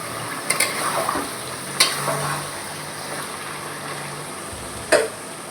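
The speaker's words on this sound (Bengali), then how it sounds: "মাংসটা কষানো হচ্ছে" Meat sautéing in a pan with four green chillies, a continuous soft sizzle with occasional sharp spatula knocks and scrapes against the pan, close and without talk.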